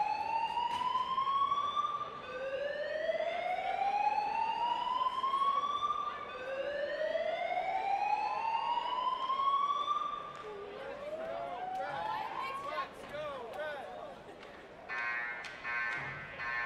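A fire alarm sounds in a building during a men's hockey broadcast between RPI and Harvard, repeated rising electronic whoops followed by a steady piercing tone, loud and continuous throughout.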